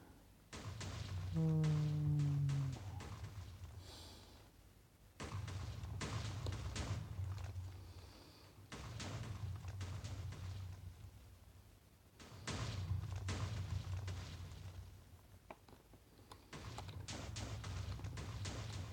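Repeated heavy booming blasts come in long rumbling bursts separated by short gaps, as about 6000 TNT blocks fall and explode one after another in Minecraft Pocket Edition.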